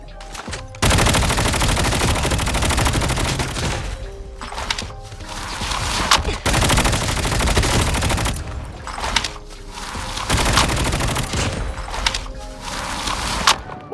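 Bursts of rapid AK117 rifle fire from a video game crackle loudly, separated by brief pauses, with sharp single shots between the volleys.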